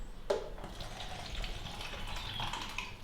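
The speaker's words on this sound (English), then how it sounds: "room temperature tap water." Room-temperature tap water runs from a faucet to make green tea, a soft, steady stream that flows quietly at a low level with no talking.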